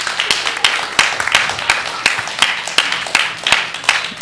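A small audience at a live variety show at PianoFight claps in scattered, uneven bursts, with individual sharp hand claps standing out over a steady murmur of crowd noise.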